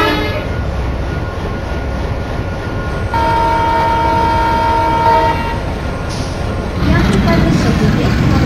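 A dual diesel locomotive in Train Simulator 2022 sounds a long, loud horn over the steady rumble and rattle of the running train, with a station announcement voice speaking underneath.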